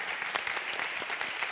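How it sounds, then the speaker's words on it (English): Audience applause for the speakers at a keynote discussion on California's housing crisis in Santa Monica, a brief burst of dense, steady clapping. "we want to just do another huge round of applause for our"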